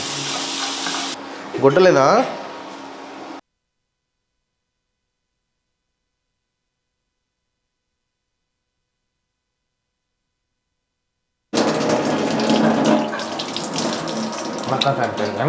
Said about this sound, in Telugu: వాటర్ పోసుకుంటున్నా